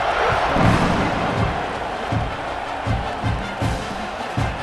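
Stadium crowd noise from College Football 26 during a Georgia vs Oklahoma game: a steady, loud roar of fans with repeated low thumping beats underneath, sustained throughout.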